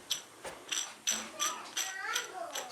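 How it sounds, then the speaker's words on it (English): A bad idler pulley bearing on a Scag mower gives off a close, rhythmic run of ratcheting clicks and squeaks, repeating several times a second. "Yeah, so this is bad. I might have to get a whole idler pulley."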